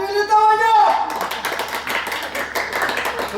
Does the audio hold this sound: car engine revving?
no